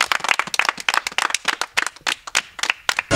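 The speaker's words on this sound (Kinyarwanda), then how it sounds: "dukomera Imana amashyi" A church congregation claps together in a dense, fast, close burst of applause lasting a few seconds, with no voices over it.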